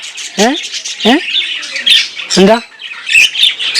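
Shrill, insistent squawks from newly hatched koel chicks repeat in short bursts, close by and loud, with brief chattering calls in between.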